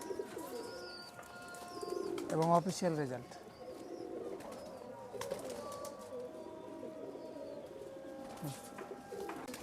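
Pakistani and Rajshahi Giribaz pigeons coo softly in low rolling calls amid a faint buzzing background, while someone talks over them at moderate distance.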